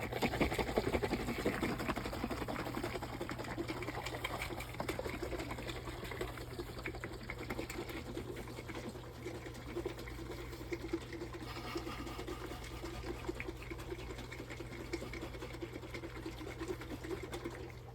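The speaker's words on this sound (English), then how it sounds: "I'm going to shake another 30 seconds." A container of porridge mixture is shaken steadily for a long stretch, giving a continuous rapid rattling slosh at moderate, even loudness with no talk.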